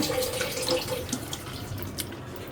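Tap water runs into a sink while ginger and garlic are rinsed under it, a steady close splashing stream with small drips and handling sounds.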